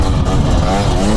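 A two-stroke dirt bike engine revs loud and close, a dense buzzing roar held for a brief moment.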